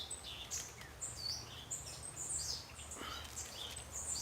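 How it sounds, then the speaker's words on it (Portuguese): Small birds chirp and twitter overhead outdoors, faint high calls scattered over a soft steady background hiss with no talk. "Passarinho cantando aqui em cima da minha cabeça enquanto a gente estava orando."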